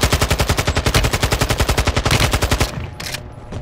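Sustained rapid automatic gunfire in Call of Duty Warzone, loud and close, a steady stream of shots lasting several seconds before it cuts off and a couple of fainter shots follow.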